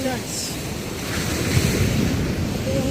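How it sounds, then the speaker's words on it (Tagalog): Big ocean waves roll and crash on a shore as strong wind buffets the microphone, a continuous roaring wash up close with faint voices in the background. "Yung lalaki ng alon."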